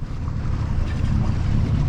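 A sailboat's engine drones steadily at low pitch in the Bay of Villefranche, with wind and water noise washing over it throughout.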